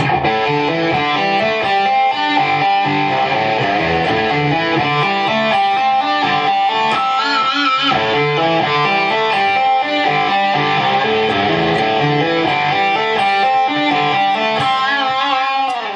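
Distorted electric guitar plays a dense, continuous riff, slowed down, with sustained overdriven notes and occasional high squealing pinched harmonics, loud and steady throughout.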